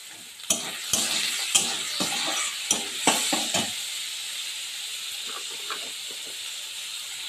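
Chopped tomato and salt dropped into hot mustard oil, with a loud burst of sizzling and several sharp clattering stirs at the start, then a steady hissing fry that settles down.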